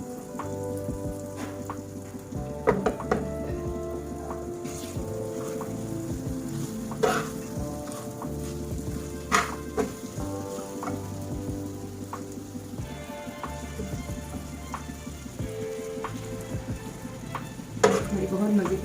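Potato and green chili bhujia sizzling and frying in a pan while being stirred, a steady close crackle with scraping stir strokes throughout and no talk.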